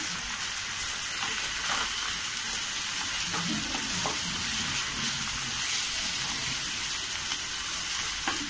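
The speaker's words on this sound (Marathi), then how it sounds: "आता आपण त्याच्यामध्ये 2 चमचे आल्या लसणीची पेस्ट टाकूया. ते सुद्धा असे छान परतून घेऊया." Ginger garlic paste sautéing with onion in a pan gives a constant bright sizzle, with occasional soft scrapes and stirring knocks from a spoon under the continuous frying hiss.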